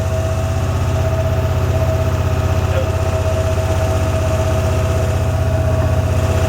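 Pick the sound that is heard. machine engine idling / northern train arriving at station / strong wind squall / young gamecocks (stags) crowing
machine engine idling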